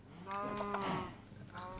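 A cow moos on a farm in the video game Minecraft, one short, fairly close call followed by a brief fainter second call.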